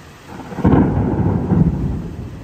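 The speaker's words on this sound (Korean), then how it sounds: "번개가 치고 나서 천둥 소리가 들리지?" A loud, deep rumble of thunder during a rainy-season storm in Uganda swells suddenly and rolls on for a couple of seconds, with a light hiss of rain underneath.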